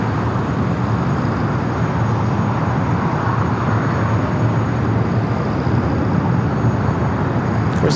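An American Airlines Boeing 777 taxis along a taxiway at Los Angeles International Airport, its engines giving a constant, close, heavy roar with broadband hiss that stays even and unbroken throughout, with no voices.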